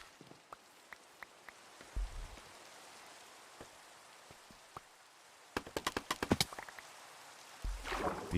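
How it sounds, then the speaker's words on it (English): Light rain in a game's Low Town area, a steady faint patter with scattered drops ticking throughout and a few louder splashy bursts near the end, no voices. "And the ever-present rain in 118."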